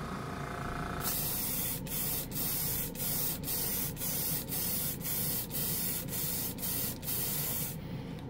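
Quick-drying Chroma Green paint sprays in a long continuous hiss, broken by about eleven short, evenly spaced pauses like repeated trigger releases, close and steady from start to finish.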